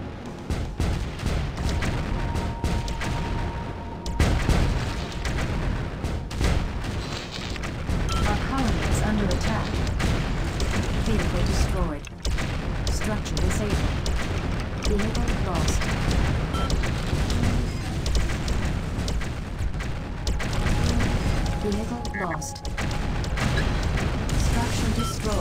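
A colony attack in the video game Outpost 2 brings a dense, continuous barrage of loud explosions and gunfire, booming without pause throughout, while a voice speaks over the battle.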